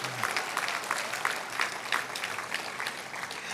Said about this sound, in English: how about another big round of applause for our Hall of Famers, past and present